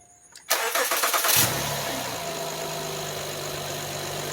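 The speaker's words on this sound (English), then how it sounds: "would you want to start the car up" A car engine with a weak battery cranks for about a second, then catches and settles into a steady idle that runs on alone.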